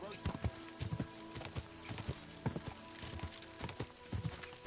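Horses galloping in Kingdom Come: Deliverance II, hooves clip-clopping in a quick, steady rhythm of sharp thuds, fairly quiet and continuous, with faint voices mixed in underneath.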